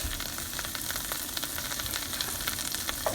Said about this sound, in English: we're gonna deglaze the bottom of the skillet while it's melting